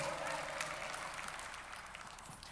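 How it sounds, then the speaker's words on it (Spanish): A church congregation claps steadily and evenly throughout a worship service, a dense wash of applause at moderate distance. "Un aplauso al Señor nuestro Dios."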